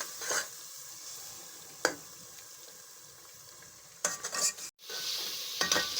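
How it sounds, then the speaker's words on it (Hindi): Spiced masala for fish biryani frying in a pan with steady sizzle, broken by a few sharp scraping stirs near the start and again toward the end, with one brief dropout. "हमारा मसाला काफ़ी हद तक भुन चुका है"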